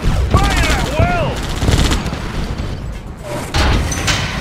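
Dense gunfire and explosions from Red Alert 2 battles, with repeated bursts, booms and mechanical clatter layered with whistling, descending projectile sounds, plus a game voice speaking over the action.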